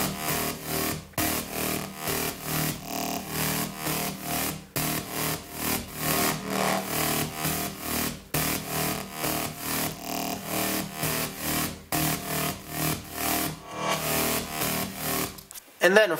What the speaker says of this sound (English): big bass, all the bass layer and all the sequences,